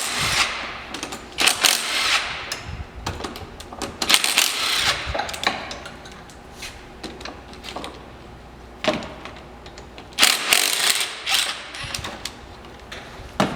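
Bolts being unscrewed from the auxiliary PTO of a V-twin engine during a stroker crank install: bursts of ratcheting and metallic clicking with clinks of loose parts, close and fairly loud, coming in several separate spells.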